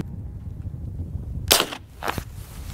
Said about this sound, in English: We're gonna be shooting a 70-inch TV with all these different guns